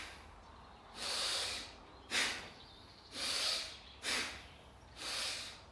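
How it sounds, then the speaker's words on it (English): Forceful nasal breaths in a pranayama exercise, alternating long hissing exhalations with short sharp intakes in a steady rhythm, close and clear with no talking. "When you go down, you breathe out."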